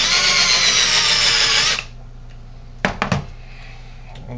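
A power drill whirs loudly as it roll crimps a 2-inch wax slug shotgun shell, running steadily and then stopping abruptly, followed by a few sharp knocks and clatters of handling.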